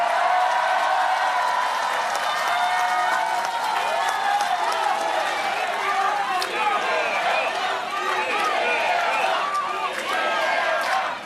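Sustained applause from a large outdoor crowd at a political campaign rally in a city hall square, dense continuous clapping with scattered cheers and chatter, loud and steady for the whole stretch.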